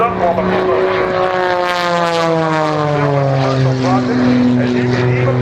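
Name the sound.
T-33 airplane taxiing down the runway at an air show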